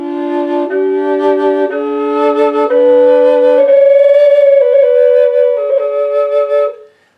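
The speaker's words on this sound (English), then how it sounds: "But when you play this flute on the drone side" Custom bass D Native American drone flute tuned to 432 Hz, played on its drone side: a sustained breathy two-voice tone that holds low, then steps up into a higher register and sustains before fading out, with no talking.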